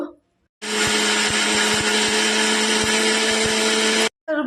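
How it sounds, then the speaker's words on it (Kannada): A mixer grinder blends roasted masala with coconut, a loud steady high whirring motor running for about three and a half seconds with faint periodic knocks, then cutting off abruptly. "ಮಿಕ್ಸಿ ಜಾರಿಗೆ ನಾವು ಹುರಿದಿಟ್ಟಂಥ ಎಲ್ಲ ಮಸಾಲವನ್ನು ಹಾಕಿ ಗ್ರೈಂಡ್ ಮಾಡುವ"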